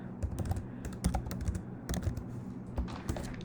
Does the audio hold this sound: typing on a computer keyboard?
yes